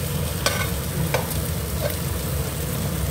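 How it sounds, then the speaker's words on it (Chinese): Skinless pollock fish fries in a pan with a constant crackling sizzle, broken by a few sharp clinks of a utensil stirring against the pan, close and without talk. "我少看妈咪煎东西哦"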